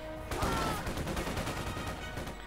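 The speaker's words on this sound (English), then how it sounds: "Another rifle grenade." Rifle grenades and gunfire fill a Company of Heroes 2 battle, a dense rolling fusillade of overlapping blasts and shots that carries on loud and steady throughout.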